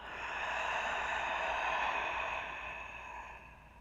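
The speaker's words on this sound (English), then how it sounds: "Open mouth, exhale." Big open-mouthed exhale during a yin yoga session, a single long breathy rush of air lasting several seconds, close and steady before easing off at the end, with no talking.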